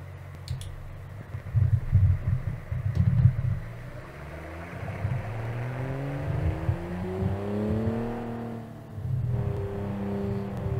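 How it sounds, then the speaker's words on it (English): A 1984-model rear-engine sedan with a turbocharged flat-six and dual exhausts drives in a BeamNG simulation, its engine droning low and rising through gears with clear pitch sweeps, close and steady, with a few faint clicks. "it's got the uh, the flat six under there in the rear with the dual exhausts it's all ready to go let's see how it drives"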